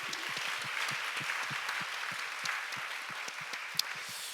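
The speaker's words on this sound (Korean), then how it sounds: "우리 애기 엄마 김은혜 목사님, 우리 박수 한번 할까요?" Applause at a church youth service, a steady crowd of hands clapping at moderate loudness for a few seconds, with no talk over it.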